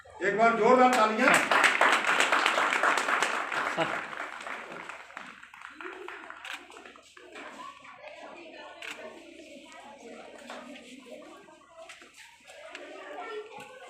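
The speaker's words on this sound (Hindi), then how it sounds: "एक बार जोरदार तालियां।" An audience at an NHPC foundation day cultural event breaks into loud, dense applause that gradually fades to scattered clapping, with voices and crowd chatter mixed in.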